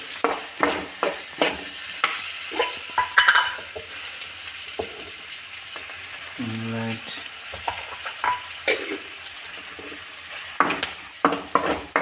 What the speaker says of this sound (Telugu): ఇలా ఫస్ట్ తాలింపు స్టార్ట్ చేసుకోవాలి నూనెలో అన్నీ వేసుకొని